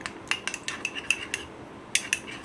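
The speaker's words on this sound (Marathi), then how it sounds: "असं करून घ्यायचं चमच्यानं म्हणजे जातात गुठळ्या" A metal spoon clinks and scrapes against a bowl while stirring jowar flour soup with vegetables to break up lumps, giving a run of light, close taps and clicks with short pauses and no talking.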